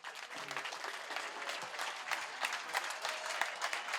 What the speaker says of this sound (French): Donc beaucoup d'applaudissements pour elle, s'il vous plaît.